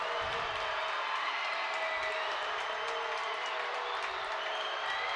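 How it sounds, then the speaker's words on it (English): Loud, dense crowd noise fills a high school boys basketball area championship gym, a steady roar of cheering and clapping with no letup as the game nears its final seconds. "Crowd getting loud here. The loudest it's been all night."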